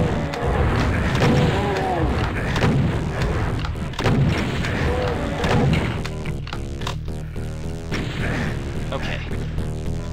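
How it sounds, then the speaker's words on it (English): Rapid heavy explosions from homing rockets in the video game Doom 2, loud overlapping booms and thuds in dense bursts amid other game noise, with a voice talking over them. "Stop with the homing rockets!"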